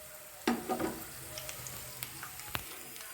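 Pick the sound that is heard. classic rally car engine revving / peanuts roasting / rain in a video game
peanuts roasting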